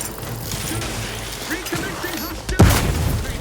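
A grenade detonates near the end in The Outer Worlds 2, a sudden loud close burst with a sharp crack and low thud, after a stretch of clattering combat noise and faint voices.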